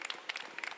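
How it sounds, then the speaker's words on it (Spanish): A brief burst of applause, several people clapping in quick, uneven rhythm. "le voy a dar un aplauso a Rafael por este espacio"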